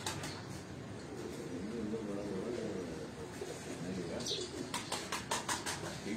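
Flying pigeons kept at a home loft coo softly at close range, with some chirps and wing flutters toward the end and muffled talk in the background.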